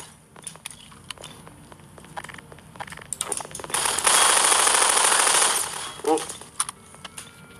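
Rapid video game gunfire bursts crackle through a loud, dense volley mid-clip, with scattered shots before and after, under a player's brief exclamations.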